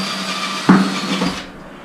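A small drill bit boring a pilot hole through tile into the wood behind a shower wall, a short grinding whine with a sharp bite midway, then fading out.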